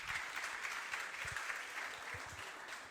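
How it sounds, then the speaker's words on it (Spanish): An audience at a vocational seminar applauding to welcome a speaker, a steady wash of clapping from many hands at moderate distance. "vamos a recibirla con un aplauso a Paulina"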